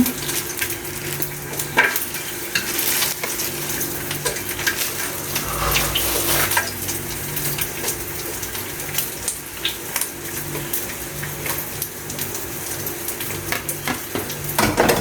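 Dried fish (tuyo) frying in a pan while being stirred for breakfast: a steady, fairly loud sizzle runs throughout, with scraping stir strokes and small spattering bursts rising above it.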